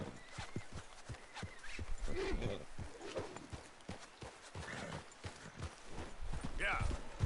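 A horse's hooves clop in a steady, rapid rhythm in Red Dead Redemption 2, with occasional snorting or whinnying, close and continuous beneath people talking.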